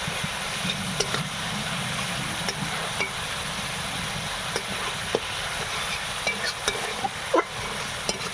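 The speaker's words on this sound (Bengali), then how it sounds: "সামান্য একটু জল দিয়ে মশলাটা আরও একবার কষানো হয়ে গেছে" Spice paste for an egg and potato curry being sautéed with a splash of water, a dense, close sizzle broken by regular scraping and clinking as a spoon stirs the pan.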